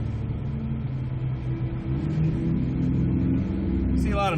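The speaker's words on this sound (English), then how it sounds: "See a lot of nice cars, another Mercedes" A Mercedes car drives past on a city street among other traffic, a steady rumbling engine drone throughout with the pitch shifting slightly as it passes, a brief higher whine near the end.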